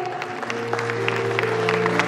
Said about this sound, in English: Please give big round of applause for her.